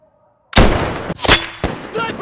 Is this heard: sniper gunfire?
yes